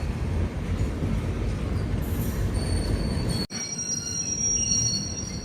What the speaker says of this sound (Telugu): మన ట్రైన్ అండ్ ఆ గూడ్స్ అయితే ప్యారలల్గా పోతున్నాయి ముందుకి.